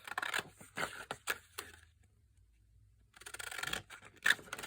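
Scissors snipping paper for a vintage junk journal, a close series of crisp, quick cuts, then a short pause before another burst of snipping, with no talk.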